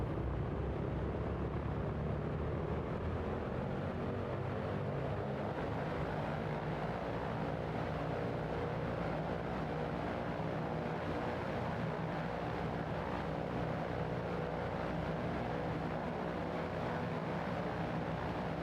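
An aircraft engine runs at full takeoff power on a departure from Keflavik, a loud, steady, unbroken roar with low droning tones that holds unchanged for nearly twenty seconds.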